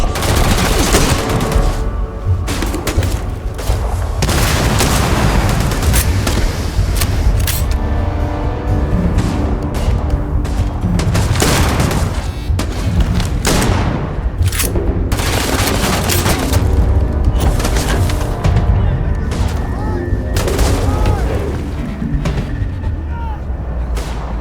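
Heavy gunfire in Starfield combat erupts in loud, dense bursts of shots and booms that keep rattling almost nonstop, with voices heard between the volleys.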